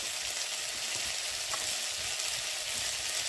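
Potatoes and greens frying in a pan in a village kitchen in Solukhumbu, Nepal, giving a steady, close, continuous sizzle with no voices.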